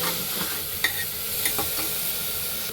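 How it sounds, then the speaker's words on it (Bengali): Bitter gourd fries in a pan with salt and turmeric, a faint steady sizzle with a few light stirring clicks and scrapes, close and unaccompanied by speech. "ওদিকে তো উচ্ছে ভাজা হচ্ছে"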